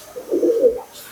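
Pigeons cooing in a loft, one soft, low, rounded coo rising and falling over about half a second, close and clear against a quiet background.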